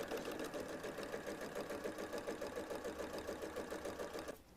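A sewing machine running a seam on a sun hat, a steady rhythmic whirring stitch close by that stops abruptly at the end.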